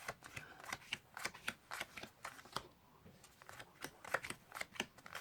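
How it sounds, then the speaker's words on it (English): A deck of playing cards being riffle shuffled, with repeated crisp bursts of fluttering card snaps close by, some quieter gaps between shuffles, no talking. "do a couple of riffle shuffles if you want, just as long as you make sure that you keep them 5 cards on the top of the pile"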